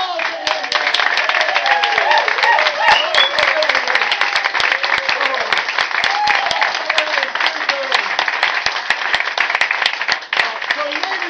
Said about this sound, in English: I think that we should give Aaron and Jane a wonderful round of applause